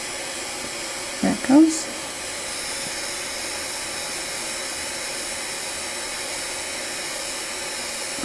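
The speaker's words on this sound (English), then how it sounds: "A little flame." Small soldering torch flame heating paste solder on a jump ring, a steady soft hiss and roar running throughout after a brief louder burst near the start, with a voice speaking briefly.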